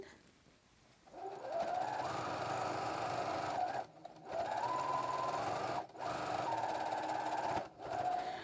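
A sewing machine top stitches a custom-fit cotton button-up shirt in three long runs, each breaking off with a brief pause before the steady close whir resumes, with no voices heard.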